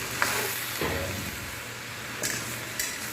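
Okra and cabbage being stirred in a hot pan, with a steady, fairly loud sizzle broken by occasional scrapes of the utensil.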